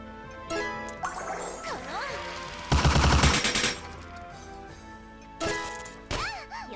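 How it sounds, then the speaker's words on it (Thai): Bursts of rapid bomb blasts in the video game Isekai Quest, a loud cluster in the middle and shorter bursts later, with chiming game tones and synth sweeps in between. "ระเบิดลงมาอีก"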